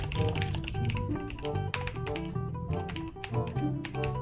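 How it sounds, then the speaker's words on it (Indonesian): During a gamer's live stream, a keyboard is hammered in a rapid, continuous flurry of clicks under loud, steady background music. "Oh, ini mengetik cepat"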